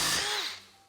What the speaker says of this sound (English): First thing we're gonna do is we're gonna drill a hole in this thing.